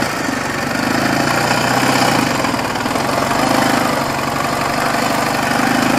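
A Soviet motorcycle engine runs steadily with a low, throbbing rumble in winter, swelling slightly in loudness now and then, close by and without any talking.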